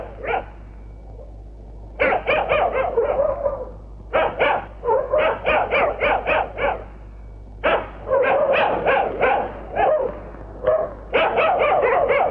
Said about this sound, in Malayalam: പട്ടിയുടെ ധർമ്മം കുറയ്ക്കുക എന്നുള്ളതാണ്